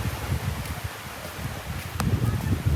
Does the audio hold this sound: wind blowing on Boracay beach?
yes